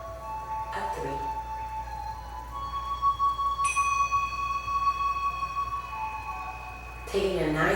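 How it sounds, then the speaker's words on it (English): Three bell strikes end a relaxation for young children in yoga. They ring softly and widely spaced, each tone hanging and fading slowly, the last one brighter, with a faint background hum. "when you hear my 3 bells"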